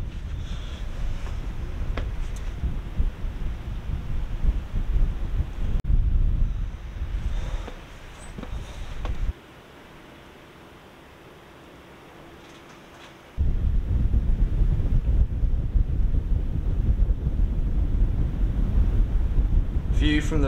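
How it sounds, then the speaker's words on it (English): Strong wind buffets the microphone in loud, rumbling gusts atop a tidal sea fort, easing to a brief lull before roaring back for the rest of the clip. "Bit windy though for that."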